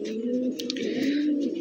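Army breed pigeons coo softly in a short, steady phrase, with a few faint chirps above the low purring calls, heard close with no talking.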